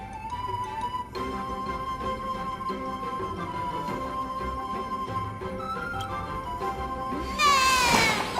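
In the Honkai Star Rail video game, a cat character gives a run of repeated meows over light background music, ending in a louder, brighter burst.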